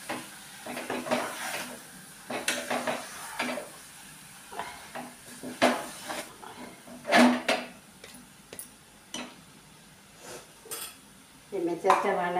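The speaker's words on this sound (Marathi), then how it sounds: "त्याला आपण व्यवस्थित परतून घेऊया" Eggs are stirred into frying masala in a pot for egg curry, with irregular metal clatter and scraping over a soft sizzle, close by. A voice briefly speaks near the end.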